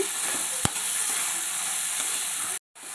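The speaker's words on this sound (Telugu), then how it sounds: "ఇదిగోండి ఇలా వేపేసుకోండి మెత్తంగా ఇలాగ అయిపోవాలి" Mint and peanuts fry for chutney in a pan, giving a steady, loud sizzle that runs unbroken, with one brief clatter and a short drop near the end.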